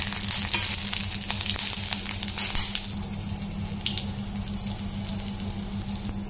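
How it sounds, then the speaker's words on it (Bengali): Nigella seeds and green chilli dropped into hot oil left from frying eggplant, giving a steady loud sizzle with crackling pops that settles into an even frying hiss. "এখন ওই তেলে কালো জিরে কাঁচা লঙ্কাটা আমি ছেড়ে দিচ্ছি।"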